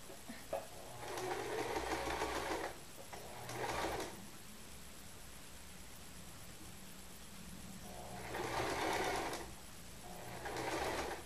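Sewing machine stitching a gathered seam on fabric, running in four separate bursts of rapid whirring with quiet gaps between, close and moderately loud.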